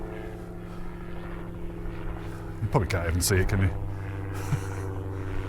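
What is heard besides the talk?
gyrocopter flying overhead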